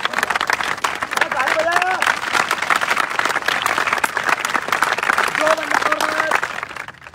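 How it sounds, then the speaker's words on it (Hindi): A group of people clapping steadily and continuously, with voices and a few short shouts breaking through over the applause. "ताली बजा बेटा।"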